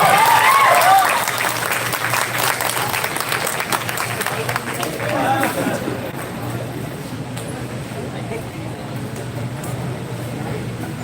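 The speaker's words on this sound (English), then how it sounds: "Great applause guys." An audience at a national-level MBA fest at an engineering college claps for the college dean, loud dense applause at the start that gradually fades and thins over about eleven seconds, with some murmur and room noise beneath.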